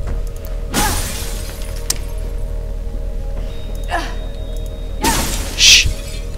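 Glass shatters loudly twice in the Mirror's Edge video game, each burst a bright crash with tinkling debris, separated by a few seconds of low ambient hum and a softer crunch between them.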